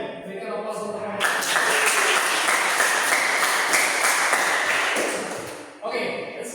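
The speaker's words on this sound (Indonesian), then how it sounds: "Oke, berikan aplaus untuk mereka." Classroom applause for a student group during a teaching session: a sustained, dense burst of clapping from many hands that rises sharply, holds steady for several seconds, then fades, with chatter before and after.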